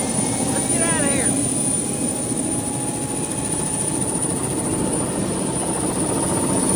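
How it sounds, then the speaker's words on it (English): Two engines roar together with a loud, continuous jet-like drone, steady throughout and close, while voices talk over the noise. "Sounds like a freaking double jet engine"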